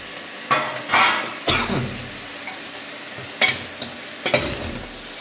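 Greens and cabbage fry in a pan with a sizzle beneath several distinct spatula scrapes and clanks against the metal, coming in irregular bursts.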